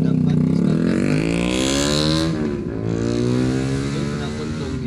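A loud aftermarket exhaust on a street vehicle in Padang Panjang roars past, a rising then falling engine drone with throaty harmonics, close and dominant, continuing as it moves away.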